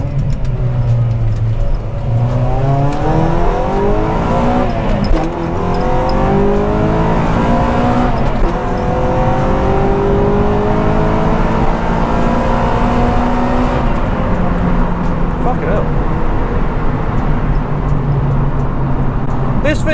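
Honda Prelude VTi fitted with an induction kit accelerating from inside the cabin, engine note rising steadily through the gears with a loud, continuous drone, a person talking over it.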